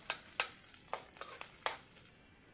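Garlic hits a hot pan with onion already in it and starts to sizzle. A quiet, hissing fry is broken by a few sharp crackles and stirring clicks, then it fades away.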